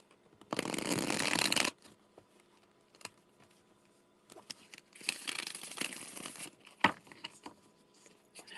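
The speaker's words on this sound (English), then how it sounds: "I'm going to shuffle." A tarot deck is shuffled in bursts during a psychic reading, with a long riffle of cards, then quieter taps and handling, then another crisp shuffling run, all close-up and without talk.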